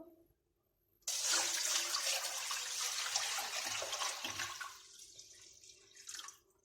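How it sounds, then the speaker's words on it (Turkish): About two litres of water pours steadily into a soup pot, a loud, continuous splashing that starts abruptly, runs for several seconds, then thins and tapers off near the end. "2 litreye yakında su ilave ediyorum."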